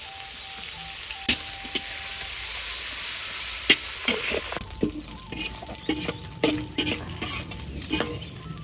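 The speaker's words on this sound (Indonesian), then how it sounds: "Terine digoreng cilik" Small anchovies frying in oil in a home kitchen for an eggplant dish, a steady bright sizzle with scattered crackles and spatula clatter, turning more irregular and busier in the second half.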